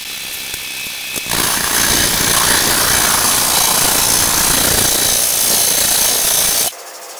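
Wood lathe at about 700 RPM turning a peppermill, a loud continuous rushing hiss of the tool cutting with chips peeling off, starting abruptly after a quiet hum and stopping suddenly about six seconds later.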